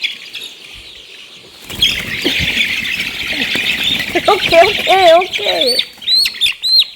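A one-month-old poultry chick on a Ghana farm gives several loud, close chirps and squawks in quick bursts, with a brief rustle of flapping wings, after a stretch of steady background noise; a voice speaks briefly.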